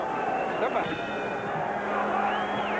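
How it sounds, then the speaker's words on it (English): A boxing ring bell rings to start the tenth round of a professional fight, a thin metallic ring heard under a steady crowd and arena murmur. "The bell sounds, and this is the 10th round."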